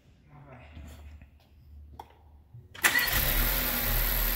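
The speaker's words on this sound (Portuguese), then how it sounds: "Vamos ligar o motor aqui agora," After some quiet talk and a brief crank, the turbocharged engine of a Volkswagen Polo GTS fitted with a K&N air filter catches and roars to life, settling into a loud, steady idle.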